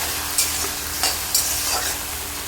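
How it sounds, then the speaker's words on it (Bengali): Mustard and poppy seed paste frying in oil for a rohu fish curry, a steady soft sizzle with three brief scraping stirs of a spatula standing out near and fairly quiet. "সর্ষে পোস্ত দেওয়ার পরে আমি মোটামুটি দু থেকে তিন মিনিট ভেজে নিয়ে"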